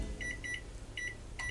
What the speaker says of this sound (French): 1 minute 15 dans le micro-ondes.